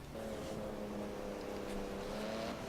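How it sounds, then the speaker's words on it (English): Porsche 911 GT2 RS in Forza 7 driving with a steady, sustained engine drone at fairly constant pitch, quiet and continuous without revving. "let's see how the Porsche 911 handles"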